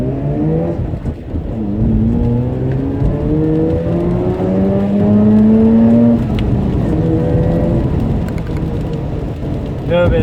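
A 2009 Mazda RX8 R3 accelerates hard from close inside the car, the engine note climbing in pitch through the gears with brief dips between shifts, loud and steady throughout.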